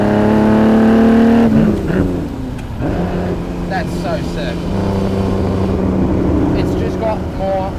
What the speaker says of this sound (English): It's just got more of a aggressive, I would say, note than the original with this exhaust, with this engine setup.